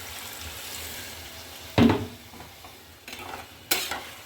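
Spices being stirred in a pan after a splash of hot water, giving a sharp burst of sizzle and scraping, then softer stirring and two later short bursts of hissing, close by with no talking.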